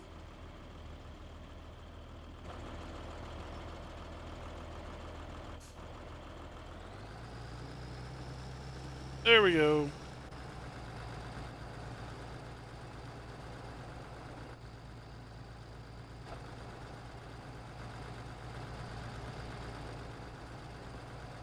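A tractor engine in Farming Simulator 17 runs at a steady, low drone and then revs up to a higher, stronger hum that holds, broken by one brief loud clatter partway through, with someone speaking briefly.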